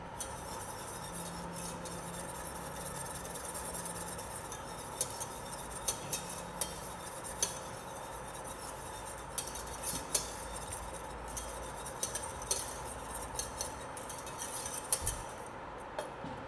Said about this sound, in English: You have to keep stirring.